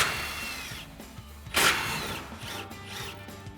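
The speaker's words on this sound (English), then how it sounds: "We've got our 15mm socket on our impact and we'll get those off." An impact wrench with a 15mm socket backs out the front bumper support bolts on a 2020-2026 Silverado 2500, with close mechanical whirring and ratcheting and one short, loud rattling burst partway through, no voices.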